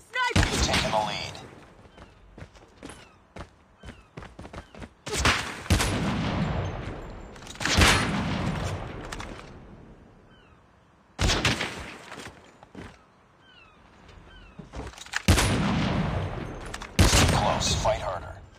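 Sniper rifle fire in a video game match, repeated sharp loud shots and bursts arriving in clusters with short quiet gaps between, and game voice callouts over some of the action.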